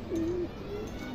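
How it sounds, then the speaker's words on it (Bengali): Silver jabra pigeon cooing close by, a low soft drawn-out coo followed by a shorter fainter one over light background noise. "সিলভার নটটা আসলে সিলভার জাবরা কবুতর"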